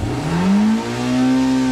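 A Suzuki Swift engine revving as the gas pedal is pressed, a loud, close rising whine that climbs in pitch over about a second then holds steady at high revs.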